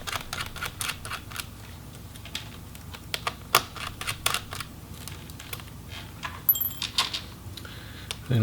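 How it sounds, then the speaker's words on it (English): A screw being taken out of an MSI GE62VR Apache Pro laptop, heard as close, small metallic clicks and taps in a quiet room with a few sharper ticks, no talking. "And we'll remove that screw."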